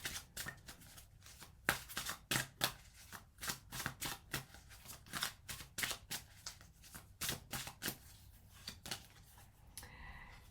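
Tarot cards shuffled repeatedly for a relationship reading, a close, steady run of crisp riffling bursts with short pauses between them, ending in a brief softer rustle.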